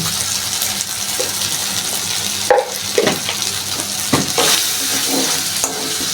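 Turmeric and salt sizzle and fry in a pan for mug potol kalia, a constant hiss of frying broken by several scraping, clattering stirs of a spatula in the second half.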